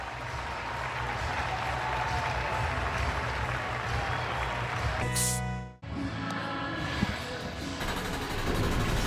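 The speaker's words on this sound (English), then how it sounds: "Kader Montero will come out of the game to a raucous round of applause with a 5-4 lead." Large baseball stadium crowd applauding and cheering steadily as a pitcher leaves the game, briefly cut by a harsh tonal burst, then the ovation resumes from a distance.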